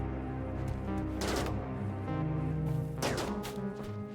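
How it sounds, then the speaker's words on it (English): Gunfire bursts in the RimWorld video game, two dense clusters of shots around a steady tonal music bed, moderately loud with no speech. "Are those gunshots?"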